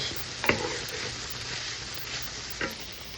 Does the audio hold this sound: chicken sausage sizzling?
yes